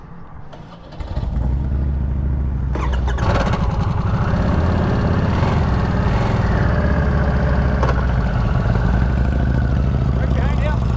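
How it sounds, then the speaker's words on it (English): A Harley-Davidson Nightster motorcycle engine cranks and fires up, then settles into a loud, steady, close idle with a deep rumble, while people talk faintly over it. "So you want me to start the bike now"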